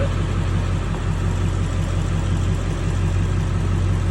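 An old truck engine idles with a steady, low mechanical rumble that holds at an even level from start to finish. It sounds close, with no speech.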